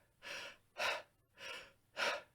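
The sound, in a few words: shallow chest breathing demonstration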